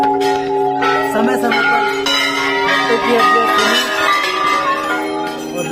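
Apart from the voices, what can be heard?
temple bells ringing at Golu Devta temple, Chitai, Almora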